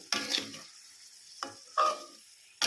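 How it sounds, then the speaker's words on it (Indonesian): Spoon stirring balado eggs in a frying pan with sugar added, a few distinct scraping strokes over a soft sizzle, close and moderately quiet, without talking. "Kita aduk."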